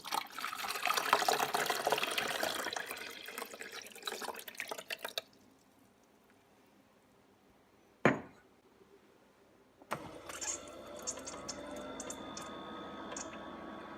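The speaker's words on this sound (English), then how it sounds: "fill it full of water" Water pours steadily into the tank of a Luma Comfort IM200SS portable ice maker for several seconds, then stops; after a short quiet a sharp click sounds, and a low motor hum starts.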